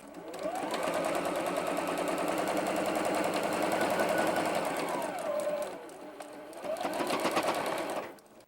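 A sewing machine stitches a pie-shaped quilt block piece in a steady, continuous whir. It slows and pauses briefly near the end, then runs again before stopping.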